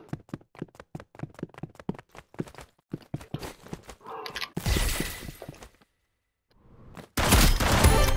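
Weapon fire in a Roblox shooter game: rapid sharp bursts and quicker clicking shots, then loud dense crackling volleys, with brief silent gaps between them.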